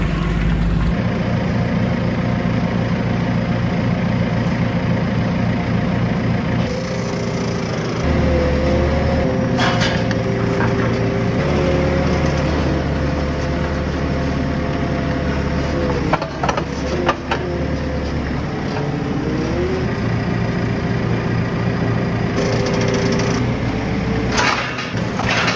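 A farm tractor with a trailer yoked up sits idling, a steady loud low rumble throughout with slight shifts in pitch and a few brief knocks and clatters partway through.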